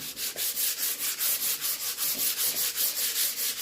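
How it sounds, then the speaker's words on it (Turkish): Rhythmic back-and-forth hand sanding of a snowboard base with 180-grit sandpaper, a steady, close scratchy rasp repeating about four times a second with no talking. "Ben 180'lik bir zımpara kullanacağım"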